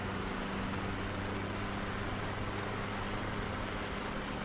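A helicopter engine and rotor hum steadily up close from inside the cabin, a constant dense drone with a low tonal whine and no talk.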